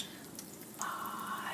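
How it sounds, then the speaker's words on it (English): Steady close sizzling of chicken frying in hot oil, a soft hiss that grows brighter and louder partway through, with no voices. "Hear that? That's fabulous, sizzling."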